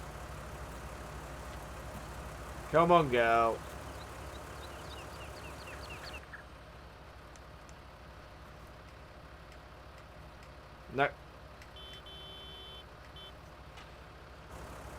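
A tractor engine in the Farming Simulator 19 video game holds a steady low idling rumble, then cuts out about midway. A short spoken voice rises over it early, and a single brief beep follows later in the quiet.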